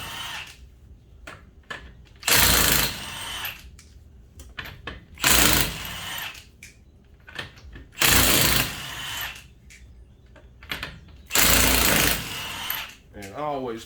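An impact wrench removes the 21 mm lug nuts on a 2016 Mazda CX-5 in four loud rattling bursts of about a second each, separated by pauses where a voice talks nearby.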